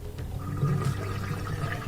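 A Bosch dishwasher drains its water during a reset, giving a continuous gurgling, rushing flow with a low hum underneath. It holds steady at moderate volume for the whole stretch.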